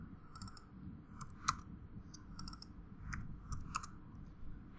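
Quiet typing on a computer keyboard: scattered clusters of light key clicks in short uneven bursts, faint over a steady background hiss.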